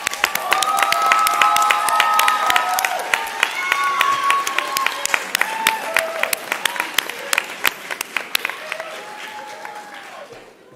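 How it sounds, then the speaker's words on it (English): Family and friends applaud at a pharmacy school white coat ceremony, a loud, sustained burst of clapping filling the hall, mixed with some cheering and crowd noise, tapering into sparser claps near the end. "That is well-deserved applause, family and friends"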